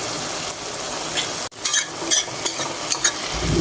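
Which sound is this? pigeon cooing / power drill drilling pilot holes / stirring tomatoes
stirring tomatoes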